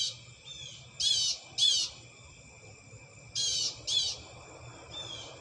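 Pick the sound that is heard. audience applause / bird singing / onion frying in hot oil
bird singing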